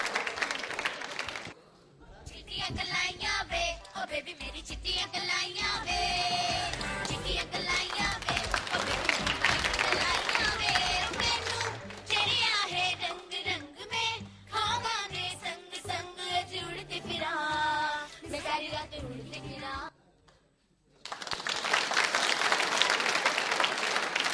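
An audience at a school quiz show claps loudly and at length, a dense roar of applause broken by short gaps, with voices and some musical tones mixed in.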